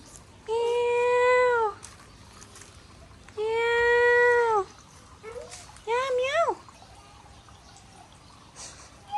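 A cat meows three times at close range: two long, drawn-out meows, then a shorter rising one, each clear and fairly loud against a quiet indoor background.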